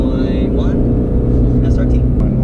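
A 2009 Dodge Challenger SRT with the 6.1 engine and manual gearbox pulls away, a loud, steady low engine rumble from inside the cabin with voices talking over it.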